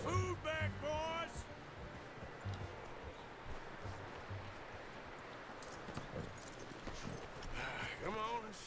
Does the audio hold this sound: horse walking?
yes